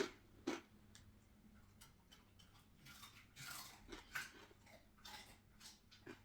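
Someone chews a crunchy pork-fat snack, giving quiet, irregular crunches and bites spread across several seconds, close but faint, with no talking.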